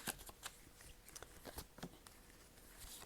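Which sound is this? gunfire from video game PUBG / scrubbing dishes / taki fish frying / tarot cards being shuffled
tarot cards being shuffled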